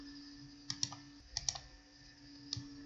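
Computer keyboard keys tapped while a promo code is typed, three short clusters of crisp clicks spaced apart over a faint steady background hum, close and fairly quiet.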